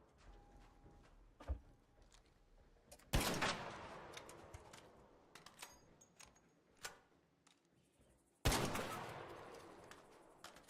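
Gunfire in a Minecraft mod aimed at a tanky leaper creature: two loud, sharp blasts about five seconds apart, each with a long ringing tail, over quieter ticking and clattering game sounds.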